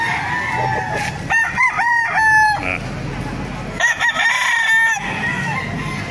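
Hatch Gray gamefowl roosters crow loudly and repeatedly at a chicken market in Baliuag, Bulacan, with two close bursts of crowing and clucking over a busy background.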